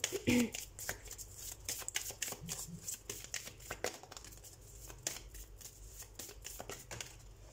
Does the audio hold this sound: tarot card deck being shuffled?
yes